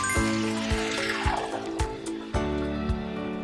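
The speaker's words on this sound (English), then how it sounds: "Once the vegetables soft, add about 800 ml of water." About 800 ml of water poured into a pan of softened vegetables for instant noodle soup, a quiet trickling splash with soft knocks underneath, no talking.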